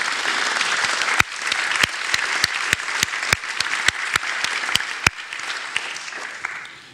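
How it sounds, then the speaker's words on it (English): People at a Newcastle City Council meeting give a round of applause, a sustained wash of clapping with sharp, regularly spaced claps standing out near the microphone. The clapping carries on for several seconds, then eases away. "I think that deserves a round of applause as well."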